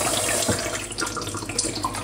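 Tap water runs steadily into a pet rodent's drinking bottle that has a little soap inside, making a close, continuous rushing and splashing with faint bubbling and no talking.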